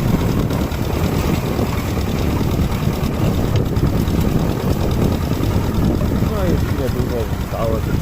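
Tractor engine running continuously while sowing a field, a loud steady rumbling drone with no letup, recorded close to the machine.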